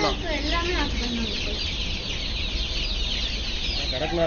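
Kadaknath and country chickens clucking in several short bursts on a poultry farm, over a steady, noisy barn hum, with faint voices murmuring in the background.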